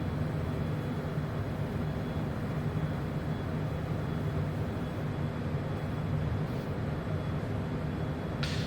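Steady, loud drone of a small airplane in flight over a runway while flying a left-hand pattern, a continuous engine and propeller hum that holds constant throughout with no voices.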